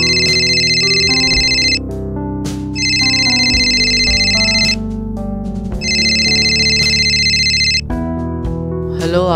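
A telephone rings in repeated electronic trilling bursts, three loud rings separated by short gaps, over background music.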